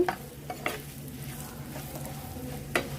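Salted fish pieces coated in chili powder frying in oil, a continuous sizzle broken by a few sharp scraping knocks of a utensil stirring in the pan, with no talk.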